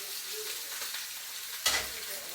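Garlic oil sizzles in a frying pan, a steady broadband hiss with a brief louder crackle burst partway through as something hits the hot oil; no one talks.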